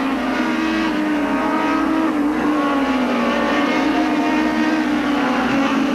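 Formula Super Vee race cars at a 1985 SCCA race at Mid-Ohio roar steadily, loud and close, the engine note rising and falling slightly as they run at speed without a break.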